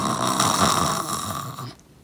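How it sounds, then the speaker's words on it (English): A single loud, drawn-out snore used as a sound effect in a children's story, a raspy rattling breath that cuts off abruptly into quiet. "Snoring."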